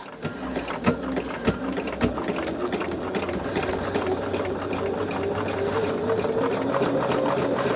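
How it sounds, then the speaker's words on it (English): A sewing machine stitches quilt block corners along the diagonal, its needle chattering in a fast, steady mechanical rhythm close by, running continuously throughout. "So we are sewing this one on the diagonal as well, from point to point in this laser light"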